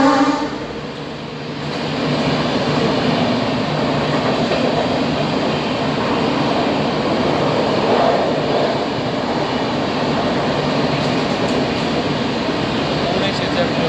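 Lokshakti Express stopped at Vapi Junction, with a steady station rumble of idling train and coach air conditioning throughout, a brief dip near the start, and a platform crowd murmuring underneath.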